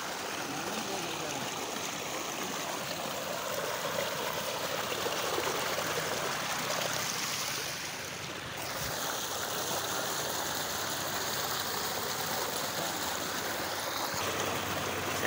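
Water gushes steadily from a solar-powered tube well in a village, a continuous broadband rush of flowing water that stays loud and even throughout, with a brief dip midway.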